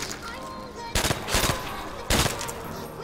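Pistol shots in the Call of Duty World at War Zombies video game: two loud, sharp bursts of a few rapid shots each, spaced about a second apart and heard up close.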